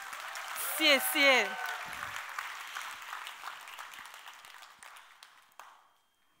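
Audience applause during a skincare product talk fills the room for several seconds after a speaker's brief word of thanks, a steady wash of many clapping hands that fades out near the end.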